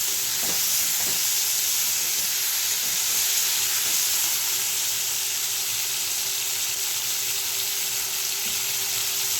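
Eggplant frying under a lid in a covered pan, a steady dense hiss and sizzle throughout with a couple of faint knocks early on, close and even, no voices.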